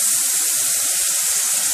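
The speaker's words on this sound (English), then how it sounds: "You're going to add 2 cups of water." Water is poured into a crumbly turkey meatloaf mixture in a kitchen, giving a steady, close splashing trickle that runs without a break and with no talk.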